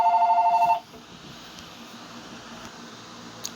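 A telephone rings indoors with a rapid warbling electronic trill that pulses for under a second and then cuts off abruptly, leaving faint room hum and a quiet background.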